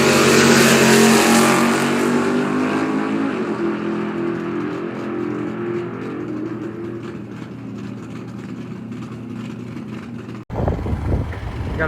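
Chevrolet Vega drag racing car at the strip, its engine roaring loud and close as it revs then settles into a fading drone, cut off sharply before a brief burst of fresh noise.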